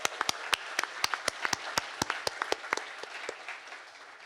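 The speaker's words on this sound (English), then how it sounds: "One more round of applause." Audience applause at a hardware conference badge-hacking prize ceremony, a sparse crowd clapping with distinct sharp individual claps over a softer wash, fading slightly toward the end.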